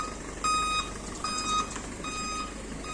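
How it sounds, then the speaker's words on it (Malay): A garbage truck reverses on a Malaysian street, its backup alarm giving three evenly spaced, piercing electronic beeps over a low, steady rumble of engine and traffic. "Alamak, lori ni bising pula."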